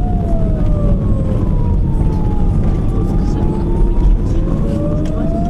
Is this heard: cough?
no